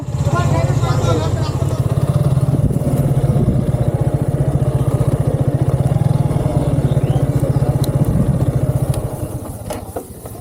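A motorcycle engine idles close by with a steady, rapid chugging throb that continues throughout and eases slightly at the end.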